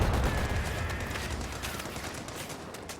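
Sniper gunfire in a strategy video game set on a battlefield: a dense, rumbling volley of shots at the start that fades into a steady roar of distant firing, with no talking.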